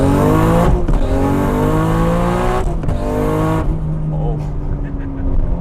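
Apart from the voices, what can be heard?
Nissan R34 GT-R RB26 engine revving and shifting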